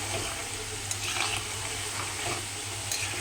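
Nimki deep-frying in hot oil over a high gas flame, a dense, even bubbling hiss that stays loud and close for the whole stretch, with no voices.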